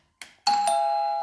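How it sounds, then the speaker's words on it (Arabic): A doorbell wired to a smart switch and relay rings once with a short click and then a bright sustained chime tone, close and clear. "رن معنا الجرس بشكل ممتاز"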